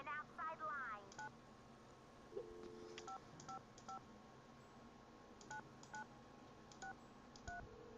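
A telephone keypad in the video game Nancy Drew: Secret of the Scarlet Hand sounds a run of clear two-tone DTMF beeps, some in quick pairs, after a brief rising tone at the start, under faint background sound.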